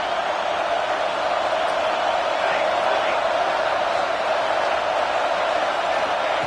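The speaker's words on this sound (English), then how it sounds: "Listen to the crowd energy here in the early going." A dense, steady roar from a stadium crowd at a football game, a constant wash of voices that stays loud and unbroken throughout with no single voice standing out.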